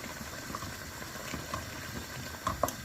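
Local rice simmers in a covered pot, a soft, continuous bubbling with small pops and plops close by, quiet and alone.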